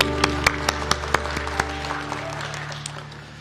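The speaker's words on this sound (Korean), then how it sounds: "축복 박수 나누겠습니다." A congregation at a Korean Sunday worship service in a church gives a short round of scattered claps that fade out within about two seconds, leaving a low steady room hum.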